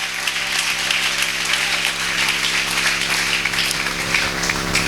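A church congregation applauds steadily and loudly for several seconds, a dense, sustained wash of clapping hands with no talk over it.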